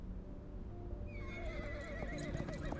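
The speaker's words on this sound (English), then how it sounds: "The horse answers with a loud neigh." A horse gives a loud, wavering whinny that rises over a steady, continuous background of rumbling noise, with a faint clip-clop of hooves mixed underneath.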